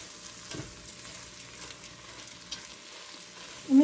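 Caramelizing onions sizzle softly in a pan as French onion soup chicken is cooked, a steady low frying hiss with faint stirring scrapes, ending in a brief louder knock.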